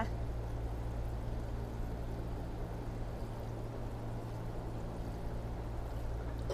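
Water poured steadily onto a potted plant, giving a continuous, even trickle and splash that lasts throughout with no one speaking.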